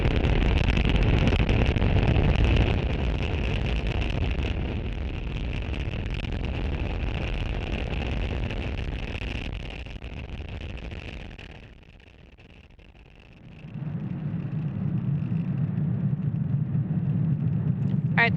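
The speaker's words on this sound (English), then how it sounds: "Falcon 9 has successfully lifted off from Space Launch Complex 40 from Cape Canaveral, Florida" A SpaceX Falcon 9 rocket lifting off from Space Launch Complex 40 at Cape Canaveral, Florida, on a Starlink launch, heard as a broad roaring rumble that dips briefly before the deep low roar returns.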